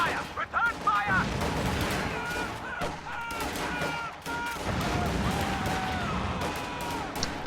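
Rapid bursts of gunfire and explosions in a real-time strategy video game, dense and continuous with shouted unit voices mixed in over the battle.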